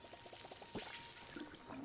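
Water pours briefly from a watering can onto crops in the farming video game Palia, a soft splashing trickle that is faint and close.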